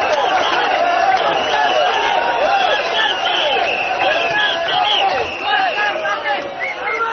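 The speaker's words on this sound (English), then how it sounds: "The crowd is now in a frenzy, chanting Workers' Party." A big crowd at a Workers' Party election rally in Hougang chants and shouts together loudly, with rising and falling voices in a dense, energetic roar that eases off slightly at the end.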